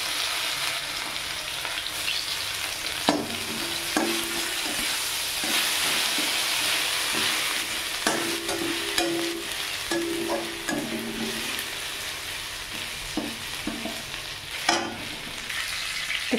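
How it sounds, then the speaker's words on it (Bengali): Chopped ginger fries in a hot pan over a gas flame, a constant sizzle with occasional stirring scrapes and clinks, no voices. "এখানে আদা কুচানোগুলো দিয়ে দিলাম।"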